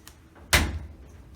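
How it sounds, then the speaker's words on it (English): A single solid thud of a clothes dryer door shutting, short and close, against a quiet room. "Next, we'll close the dryer door"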